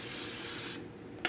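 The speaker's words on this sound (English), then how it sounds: "And what we're gonna do is spray these with non-stick cooking spray" Non-stick cooking spray sprayed onto taco salad shell containers: one continuous close, loud hiss lasting under a second, then a short quieter burst.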